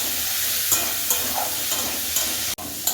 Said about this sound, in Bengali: আমার আলু আর কুমড়ো ভালোভাবে এখন কষানো হয়ে গেছে